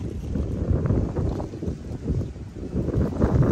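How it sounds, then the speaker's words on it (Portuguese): Strong wind gusts outdoors beside a birdcage, buffeting the microphone with low, rumbling, surging bursts that rise and fall continuously throughout. "Ó, a ventania, pessoal. Tá ventando."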